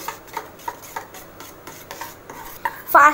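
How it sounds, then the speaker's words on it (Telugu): Spice powders stirred by hand into bread omelette batter in a bowl, giving soft repeated rubbing and scraping strokes at a steady rhythm, close and fairly quiet, ending in a louder scrape. "ఫాస్ట్గా కలపాలి, లేకపోతే ఉండలు ఫామ్ అయిపోతాయి."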